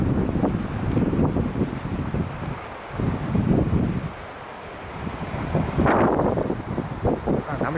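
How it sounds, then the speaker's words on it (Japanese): Sea waves splash and slosh near a boat as wind buffets the microphone, a continuous rough rushing noise with surging swells and a stronger splash toward the end, no speech. "波しぶきがね"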